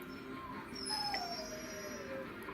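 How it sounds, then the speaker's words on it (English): A distressed dog whimpers and lets out thin, drawn-out howls indoors, the wavering cries rising and falling over a steady low background murmur. "No one's petting the dog either."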